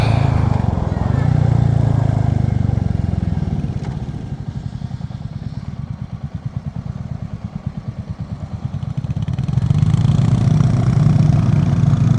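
A Royal Enfield Classic 350 motorcycle on a test ride, its single-cylinder engine thumping steadily, easing off into a lighter pulsing beat before pulling strongly again, loud and close throughout with wind rushing over it.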